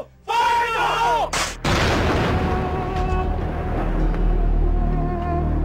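A demolition blast of 10,000 pounds of high explosive destroys a building full of munitions, a sudden deep boom that tears in and then rolls into a long sustained rumble of debris and echo.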